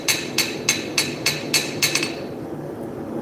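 A hammer strikes a blacksmith's anvil about eight times in a quick, even rhythm, each blow a bright metallic ring, close and clear, then the ringing fades out.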